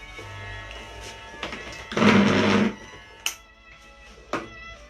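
Electric hair clipper buzzes steadily through a boy's hair for under a second during a home haircut, loud and close, with a few faint clicks around it.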